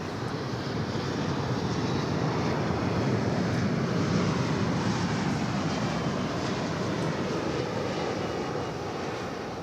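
A passenger plane arriving from Santiago passes at DFW Airport, its jet engines producing a loud, steady, broad roar that holds for nearly ten seconds without any voices.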